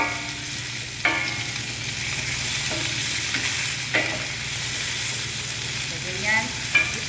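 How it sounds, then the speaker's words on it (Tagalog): Onion and ginger sautéing in a hot pan: a steady, continuous sizzle with occasional louder pops and the scrape of stirring, with no voices. "Gisahin lang natin ang gisahin hanggang sa maluto ang ating mga ingredients."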